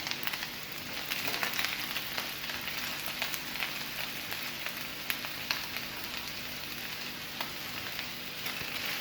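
Chopped onions fry with tender chicken in a pan, giving a steady, soft sizzle with faint crackles and occasional stirring scrapes, low in level and without talk.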